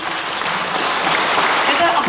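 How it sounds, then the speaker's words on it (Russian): Audience applause at an Afghan song festival in Alma-Ata in 1990, a dense, even burst of clapping from a hall crowd, close and loud throughout. "это аплодисменты, ребята"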